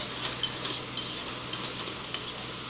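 A spoon scrapes and clinks rhythmically against a pan while stirring spice masala, short metallic taps about every half second over a faint simmering hiss.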